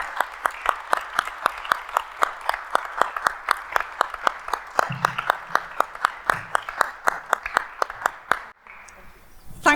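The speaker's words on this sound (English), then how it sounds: "I'll say we can give a little round of applause to Adele" Steady, rhythmic clapping at an author event honoring Adele Parks: a few hands clap evenly for about nine seconds at moderate level, with a brief voice near the end.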